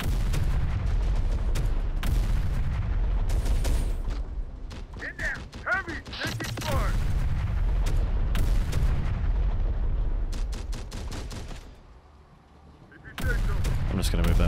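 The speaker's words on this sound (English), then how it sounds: "Machine gun, please open fire." A machine gun fires in Terminator: Dark Fate Defiance, dense rapid bursts of loud close gunfire repeating through the scene, easing briefly to a lull near the end before the shooting resumes.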